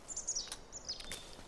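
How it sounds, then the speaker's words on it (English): Small birds chirp near a nest in Life is Strange 2, a few quick high tweets in short bursts, soft and brief against a quiet background. "Check out this bird nest. Hey, Daniel, you hear that?"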